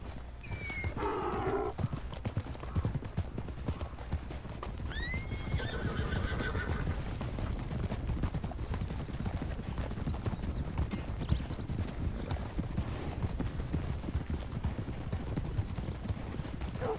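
Horses in a video game clip-clop steadily while being herded from around Fort Mercer to a ranch, with a couple of shrill neighs and whinnies rising above the continuous close hoofbeats.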